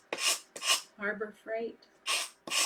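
A sanding block rubs on wood for a fan-blade Christmas decoration, giving four loud, rasping strokes with short pauses between them. A voice speaks in the middle gap.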